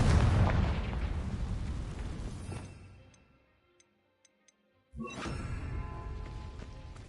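Confringo blasting spell from Hogwarts Legacy: a loud, rumbling burst that decays over about three seconds into near silence, broken by a few faint ticks, before dense, roaring noise returns.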